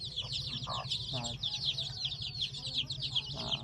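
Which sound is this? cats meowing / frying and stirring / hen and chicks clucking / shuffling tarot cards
hen and chicks clucking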